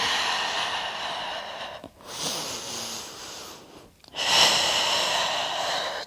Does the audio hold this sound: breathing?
yes